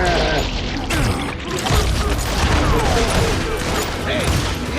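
Dense gunfire in the Western video game Call of Juarez: Gunslinger, a continuous wash of overlapping shots and crashes with shouting voices mixed in.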